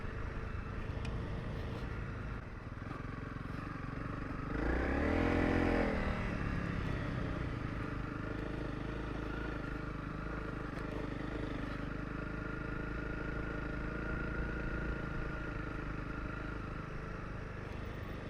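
A Honda CRF 300 Rally rides in low gear along a sandy road, its engine droning steadily up close with a brief loud pass of another vehicle early on, then a constant labouring hum.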